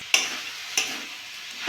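Grated coconut and date-palm jaggery filling being stirred in a wok: a few scraping strokes of a spatula over a soft sizzle, close and fairly loud, with no talking.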